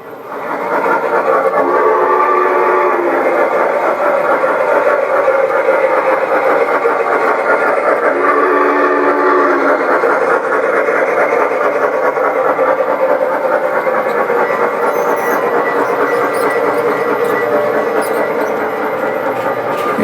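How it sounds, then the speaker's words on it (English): Continuous loud mechanical hum and clatter of G scale (1/24th) garden railway model trains running along track, steady throughout with a brief whistle-like tone midway. "I'm going to show you the largest gauge, which is G, which is the Garden Railway scale"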